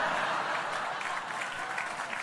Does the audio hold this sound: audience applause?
yes